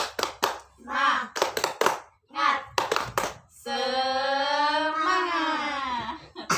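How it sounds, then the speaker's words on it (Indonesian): Children perform the tepuk semangat clapping routine in a classroom, sharp rhythmic claps in quick bursts, followed by a child's sustained high crying-like vocal tone. "Tepuk semangat."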